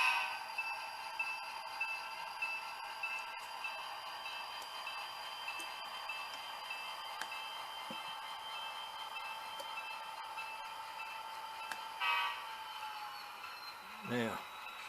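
A model railroad locomotive hums along its track with a steady high whine and light regular ticking from the rails, close by, and a brief squeal near the end.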